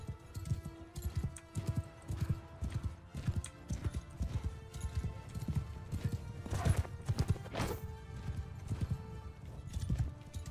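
Horse hooves clip-clop steadily in the video game Mount & Blade II: Bannerlord, a brisk rhythmic trot close by, with a brief whinny and a few sharper impact sounds partway through.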